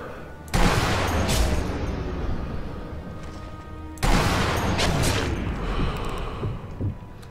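Two loud sniper rifle gunshots in the video game Sniper Elite V2, about three and a half seconds apart, each ringing out with a long echoing tail, with no voices.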